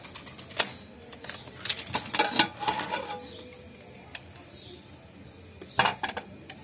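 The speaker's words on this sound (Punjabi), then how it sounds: "ਹੁਣ ਆਪਾਂ ਇਹਦਾ ਢੱਕਣ ਖੋਲ ਕੇ ਚੈੱਕ ਕਰ ਲੈਣਾ ਆ" A pressure cooker lid is opened after cooking salted rice, with close clicks, metal clatter and a brief hiss of steam in short bursts. A voice talks over some of the handling.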